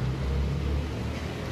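Engine noise from buses revving at a bus rally in Lincoln, a steady low rumble that holds for the whole moment, fairly loud and close, with no talk over it.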